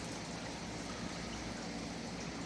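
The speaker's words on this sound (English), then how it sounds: "we've got the creek that flows through the center of the garden" Garden creek fed by a water pump, flowing through the center of a garden, a steady close wash of running water with no breaks and no voices.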